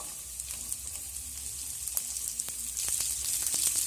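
Chopped onion frying with ginger, garlic and green chilli gives a soft, even sizzle with occasional stirring taps that grows a little louder toward the end, with no voices.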